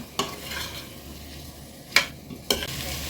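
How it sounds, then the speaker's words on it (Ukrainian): Food sizzles steadily in a hot pan over high heat while a utensil scrapes and stirs in three sharp strokes. "Перемішую і смажу на великому вогні приблизно 2 хвилини."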